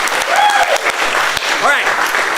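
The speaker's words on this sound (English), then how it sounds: "Give yourselves a round of applause" Improv comedy show audience applauding, a dense, steady wash of clapping throughout, with whoops and voices rising over it.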